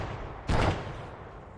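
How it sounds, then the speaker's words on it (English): A single loud explosion bursts in an ARMA 3 military operation, a sharp broadband blast lasting about a quarter second before fading back into low ambient game noise. "That just exploded."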